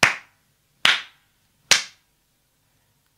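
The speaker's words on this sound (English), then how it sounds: "the eldest princess clapped her hands 3 times" A princess clapping her hands three times: sharp, close, isolated claps evenly spaced nearly a second apart, with a fourth clap starting at the very end, each separated by silence.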